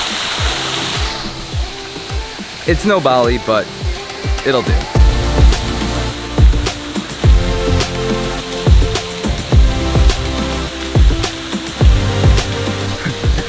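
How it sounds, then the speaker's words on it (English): A waterfall in Central Park, New York City, pours with a steady broadband rush under close voices and footsteps, with people talking over it throughout. "A waterfall in Central Park,"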